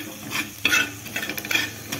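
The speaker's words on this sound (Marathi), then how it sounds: "धणे पण भाजून घ्यायचे।" Coriander seeds dry roasting in a pan while being stirred, with repeated scraping strokes and light crackling sizzle, close and steady throughout.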